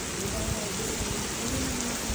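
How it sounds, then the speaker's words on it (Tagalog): Steady heavy rain hisses continuously in the farming game My Little FarmVille, a dense, loud, even wash of falling drops with no break. "Inabutan ako ng ulan."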